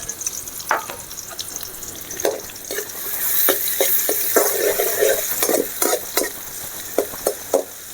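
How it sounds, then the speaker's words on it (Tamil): Garlic, green chilli and onion sautéing in hot oil for spicy egg idli: a steady, close sizzle and crackle rises midway, broken by clinks and scrapes of a spoon stirring the pan. "எண்ணெய் சூடாகிட்டு இப்போ அதில் அந்த பூண்டும் பச்சை மிளகாய் சேர்த்து நம்ம வதக்கிக்கலாம் வெங்காயத்தையும் அதில் சேர்த்துக்கலாம்"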